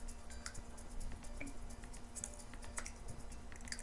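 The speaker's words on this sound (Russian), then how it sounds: "О, как раз дождь начался." Rain falls in The Sims 3 Seasons video game as a soft, continuous patter of small drops and ticks over a faint steady hum, with no voices.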